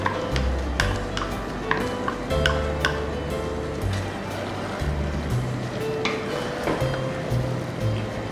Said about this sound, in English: When they start sizzling and boiling